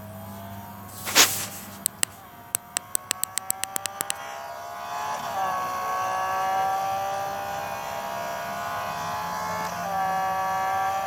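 A BMW Z4M Coupe engine, a car capable of 173 mph, droning steadily under a string of sharp clicks, then rising and shifting pitch as it drives and brakes, with no talk.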